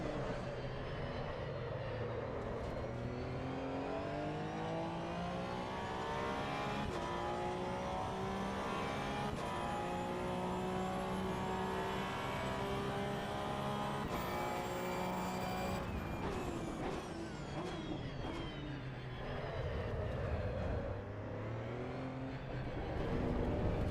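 Porsche Cup race car engine in the AC Evo racing game at Fuji, a loud continuous whine rising steadily through the revs, a shift near the midpoint, then climbing again, with no talk.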